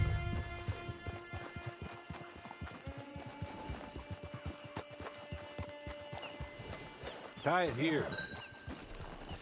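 Horse hooves clip-clop at a steady walking rhythm in Red Dead Redemption 2, close and continuous, with speech over them, a tonal hum in the background, and a horse's whinny near the end.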